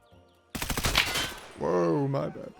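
Gunfire in Escape from Tarkov at a lighthouse, heard as a quick automatic burst of about eight close shots, followed by a voice exclaiming.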